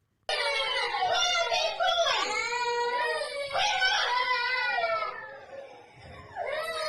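Young children scream and cry loudly in a played video, a continuous high-pitched wailing with overlapping voices that swells and dips over several seconds before breaking off briefly and resuming.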